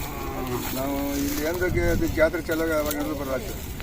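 Cattle and bullocks at a large rural cattle fair in North Karnataka, several loud drawn-out moos nearby over a busy crowd murmur, with people talking.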